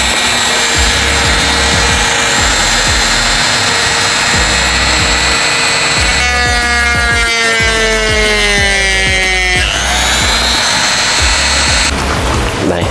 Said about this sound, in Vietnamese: Rồi bây giờ là sẽ tiến hành khoét nhựa.